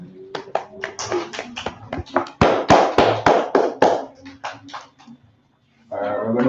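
A group of people in a church gathering claps hands, a burst of sharp, fairly close claps in quick irregular rhythm that thins out and stops, followed by a brief pause before a voice begins speaking.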